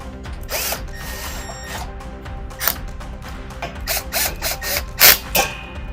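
A power drill whirs in short bursts with ratcheting clicks and metallic clatter as self-drilling screws are driven to join two flat handrails, close and moderately loud.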